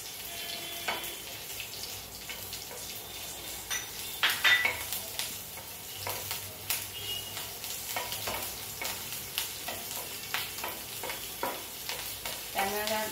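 Red and green chillies frying in a little oil for a drumstick-leaf sabzi, with a soft sizzle under repeated scrapes and clinks of a spoon stirring in the pan, irregular and close, with no talk.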